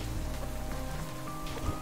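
Rain falling in the survival video game Subsistence, a steady dense patter of drops hitting surfaces at moderate volume, continuous and without voices.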